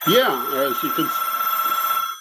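A telephone bell rings steadily in a New York office, a sustained electronic trill lasting about two seconds while someone talks briefly over its start.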